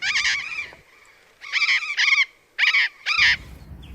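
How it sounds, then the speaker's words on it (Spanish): Native parrots held in captivity give harsh, raspy calls in four bursts, two close pairs separated by short pauses, loud and near with no talking. "Loros nativos."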